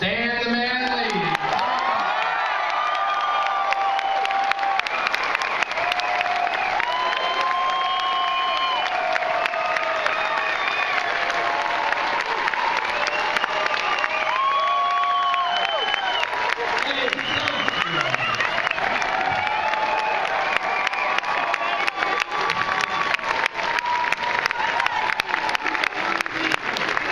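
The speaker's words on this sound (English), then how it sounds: "show of applause, let's welcome Stan the Man" A large comic convention audience applauds and cheers to welcome Stan Lee, with sustained clapping, whoops and shouts from a packed hall at a Q&A in Dallas, the roar steady for nearly half a minute.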